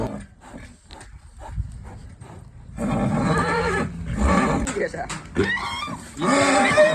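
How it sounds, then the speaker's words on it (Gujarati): A horse at a wedding procession, agitated after seeing another horse, gives loud whinnying calls amid a noisy crowd, with people talking and shouting close by. "ઘોડો થઈ ગયો બીજા ઘોડાને જોઈને બેકાબુ."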